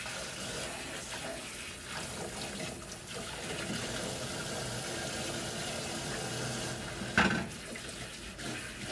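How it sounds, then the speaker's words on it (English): Tap water runs steadily over washed dishes being rinsed in a kitchen sink. A close, continuous splashing flow runs throughout, with one brief clink of dishware near the end. "Okay, I'm done with those, so now I can just rinse them off."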